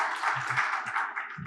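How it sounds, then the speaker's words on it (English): Soft applause from a panel-discussion audience at a business event on capital and real-estate investment, a brief, fairly even patter of light clapping with a few lower thuds near the end. "A big round of applause."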